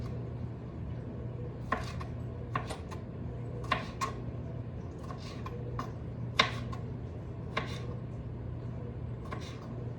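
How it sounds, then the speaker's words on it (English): Tomatoes being rough chopped with a knife on a board in a home kitchen, a steady run of crisp, close knocks with uneven gaps, no talking. "All right, tomatoes. Rough chop."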